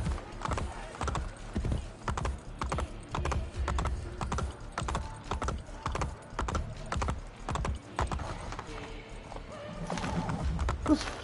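Rapid rhythmic hoofbeats of a galloping horse in the video game Assassin's Creed Brotherhood pound steadily throughout, a game-like clip-clop loop with a brief whinny near the end.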